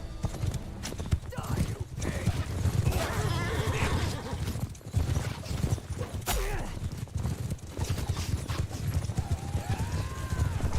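Horses in the Mount & Blade video game clip-clop at a gallop and whinny several times amid battle noise, with a person talking over the action.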